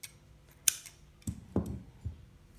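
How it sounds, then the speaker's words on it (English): Scissors snip through crochet yarn close by, a sharp click followed by a few soft, dull cutting crunches, quiet with no talking. "and cut the yarn"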